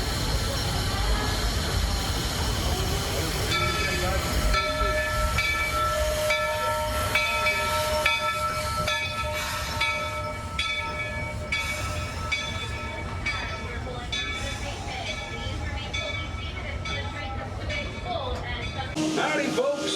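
Walt Disney World Railroad steam train at Magic Kingdom during the Christmas season, with a steady rumble of moving railcars, a sustained whistle-like tone and hissing, and a crowd murmuring and talking throughout.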